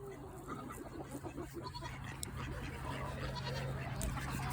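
Young goats bleat softly around a farm coop and run, short calls rising and fading under a steady outdoor hum, with hens faintly clucking nearby.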